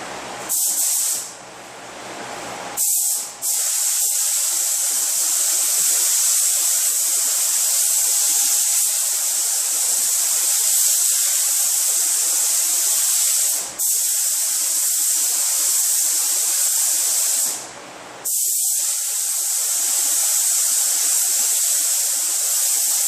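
Loud, steady hiss of a spray gun laying down a paint blend on the repaired quarter panel of a 2013 Hyundai Elantra, running in long close passes broken by three short pauses.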